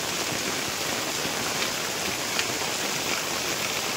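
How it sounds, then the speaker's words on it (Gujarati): Heavy monsoon rain pours steadily and loudly onto surfaces at a home, a dense continuous hiss with no break and no voices. "અને વરસાદ હજી ભાઈ ચાલુ છે"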